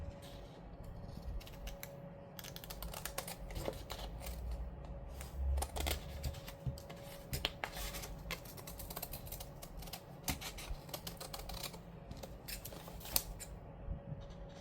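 Scissors or a trimmer cutting planner paper at close range, steady crisp snipping and rustling clicks over low background hum, no talking.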